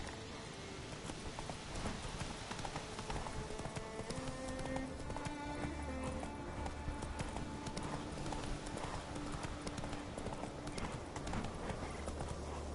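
Roach, the horse from The Witcher game, gallops in a steady clip-clop of hooves that runs the whole time, with a rider urging it on at moments.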